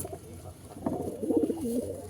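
A pair of black-eyed pigeons coos close by in a loft, one soft rolling coo following a quieter start, clear and unaccompanied by talk.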